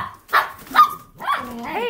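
A dog barks a few times close by, short sharp barks in an uneven rhythm, with a whiny yip at the end, heard on a farm with a flock.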